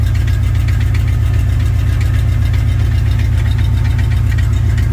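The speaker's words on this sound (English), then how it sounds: "Got a little bit of a rattle. It's got a flex plate bolt or something tapping." A squarebody truck's stroker 334 engine idles loudly and close, its steady rumble carrying a rhythmic tapping rattle from a loose flex plate bolt.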